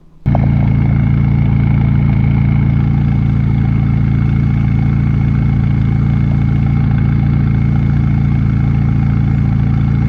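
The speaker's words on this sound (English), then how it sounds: "the idle sound on this car is just incredible" A McLaren sports car engine fires up and settles into a loud, deep, steady idle, rumbling close by without pause.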